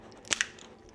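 A Zip Fizz vitamin energy drink powder packet bitten open, two quick, close crinkly crunches of plastic foil in a quiet room.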